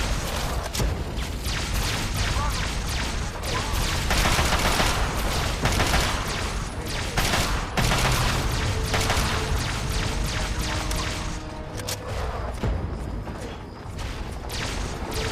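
Dense, sustained gunfire in the video game Fallout 3, rapid overlapping bursts and metallic clatter filling the whole stretch, loud and continuous with slight easing near the end.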